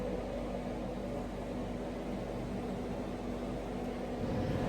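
An oven heats painted Toyota MR2 turbo car parts at 180 degrees, giving off a steady, even hum with broadband fan-like noise that stays constant throughout, no voices present.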